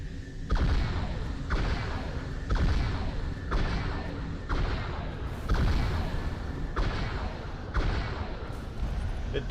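A modded vehicle weapon in Halo 3 fires heavy booming shots at regular intervals of about one per second, each a loud blast with a decaying tail, seven or eight in all.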